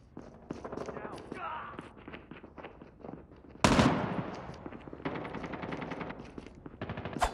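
Automatic sentry gun fire in the Call of Duty Mobile team deathmatch mode, rapid bursts of gunfire in a busy game mix with a loud sharp blast partway through and game voice lines over it.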